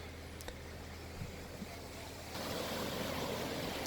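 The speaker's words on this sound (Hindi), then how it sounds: "क्या लहरें हैं यार, लहरों को देखकर दिल खुश हो जा रहा है।" Sea waves break on Golden Beach in Puri, Odisha, heard as a continuous broad wash of surf mixed with wind noise, swelling louder partway through and holding steady.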